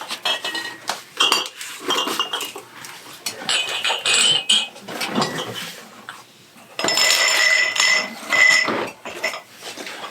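Glass pint canning jars clink and knock together as they are sorted by type and stored under the stairs, with irregular close rattles and bright chinks coming in bursts over about ten seconds.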